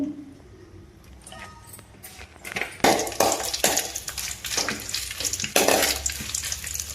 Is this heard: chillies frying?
yes